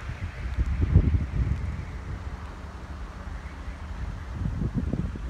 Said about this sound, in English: It's all wind right now.